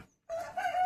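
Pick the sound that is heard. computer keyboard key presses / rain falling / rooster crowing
rooster crowing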